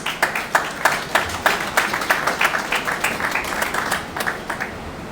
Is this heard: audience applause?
yes